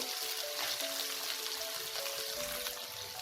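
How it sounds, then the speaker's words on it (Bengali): Small pieces of cauliflower hit a pan for a vegetarian dalia khichuri and set off a steady, close sizzle with a bright hiss that runs unbroken for the whole few seconds. "এবার এতে আমি ছোট ছোট টুকরো করে রাখা ফুলকপি দিয়ে দেবো"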